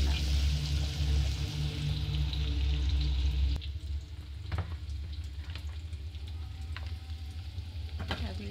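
Food fries in a hot pan, a loud dense sizzle for the first few seconds that drops to a gentler crackle, broken by occasional scrapes and clinks of stirring.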